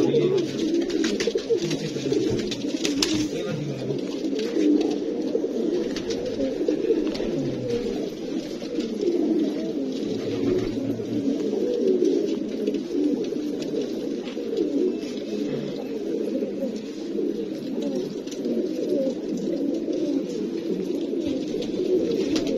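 Pigeons cooing continuously in a low, throaty murmur, several birds overlapping at close range without pause.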